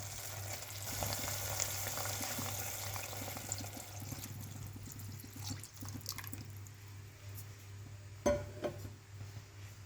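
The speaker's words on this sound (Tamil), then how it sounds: "சைட்லலாம் அந்த மாதிரி கொதிக்க ஆரம்பிச்சிருச்சு பாருங்கள்." Milk simmers in a pan on the stove, starting to boil, with soft, steady bubbling and light sizzling, a low hum underneath and an occasional clink.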